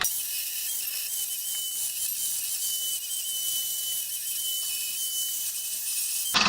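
Angle grinder fitted with an aggressive wheel, turned down to a low variable speed, gives a steady thin high whine that runs unbroken and at a moderate level throughout, with no talking.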